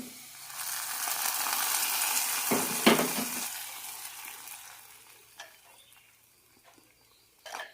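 Mustard seeds, curry leaves and small shallots crackle and sizzle in hot oil as a tempering for a drumstick and mango curry: a steady, close frying hiss that gradually fades, with a few faint clinks near the end.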